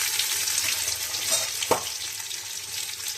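Panch phoron spices and dried red chillies frying in hot oil for a dal tempering, a steady close sizzle with one sharp clink of a utensil partway through.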